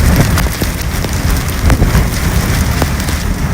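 Heavy rain pours down during a tornado storm in South Dakota, a dense, loud and steady roar of drops hitting surfaces, broken by occasional sharper splats and low rumbling, with no voices.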